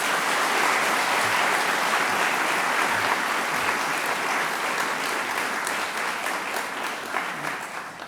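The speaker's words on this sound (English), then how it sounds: "Can you just give her another round of applause?" Sustained applause from a large lecture audience at a memorial lecture, dense and loud, gradually tapering slightly toward the end.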